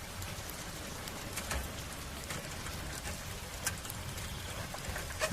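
Steady rain pattering on a surface, constant and even throughout, with occasional louder drips and no voices.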